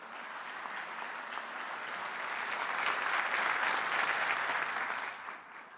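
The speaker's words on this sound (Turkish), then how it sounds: "Onları yürekten alkışlıyorum." Sustained audience applause for graduating women lieutenants, a dense roar of many hands that swells toward the middle and then tapers off near the end.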